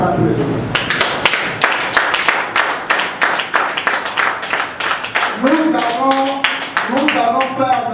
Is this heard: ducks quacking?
no